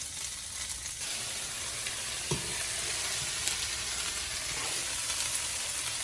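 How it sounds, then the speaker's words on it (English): Cabbage sautéing in a pan for vegan potato soup, a steady close hiss of frying with a brief stirring scrape partway through, no voices. "Sauteing cabbage now."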